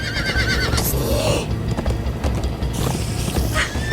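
A horse in Minecraft: Story Mode whinnies loudly over rapid clip-clopping hooves, with a rushing, busy background and a second shrill neigh near the end.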